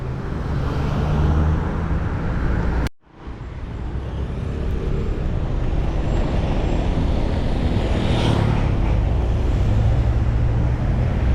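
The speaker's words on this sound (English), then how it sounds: "Oh yeah, chicken buses." Traffic on a road in Guatemala, with heavy vehicles like a chicken bus rumbling past, a steady loud engine roar with a sudden cut and a hiss that sounds like air brakes.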